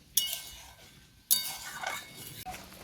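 A spoon clinks against a pot while carrot and milk are stirred for carrot sherbet, two sharp metallic knocks followed by soft scraping and a faint tap, quiet and close.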